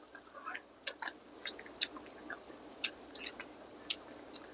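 Close-up crunchy chewing of butter-roasted macadamia nuts, with irregular crisp bites and moist mouth sounds repeating steadily.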